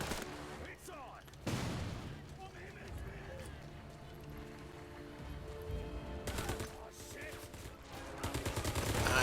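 Gunfire in the shooting mode of the video game 63 Days, heard as bursts of shots mixed with game sounds and background music at a moderate level, strongest in two loud bursts.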